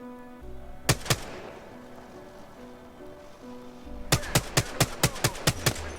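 Gunshots ring out in the game Apex Legends, two quick shots followed by a rapid, evenly spaced burst of about eight sharp cracks over a low game soundscape.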